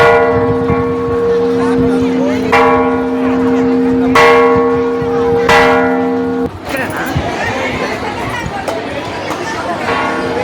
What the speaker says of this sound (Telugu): ఇక్కడ పెద్ద గంట ఉంది దాన్ని కొడుతున్నారు